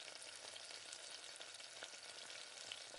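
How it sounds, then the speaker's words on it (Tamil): Brinjal and potato pieces sizzle and fry in hot oil, a continuous crackling hiss with faint stirring, steady and close, no voices. "இந்த எண்ணெயிலே நல்லா வதக்கி விட்டுக்கோங்க."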